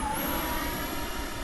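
Gen 2 F22 Raptor model aircraft in slow flight, a steady whirring engine drone with a thin high whine, heard close and constant over a brief stretch.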